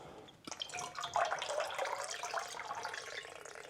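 Water poured into a pot while making seitan by the washed-flour method, a brief splash swelling into a steady bubbling stream that trails off, close by and moderately loud.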